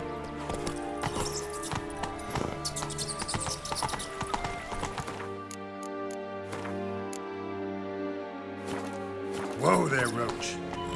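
Roach the horse gallops in The Witcher 3, hooves clip-clopping in a quick steady rhythm through most of the stretch over a layered game soundscape, with a loud neigh rising near the end.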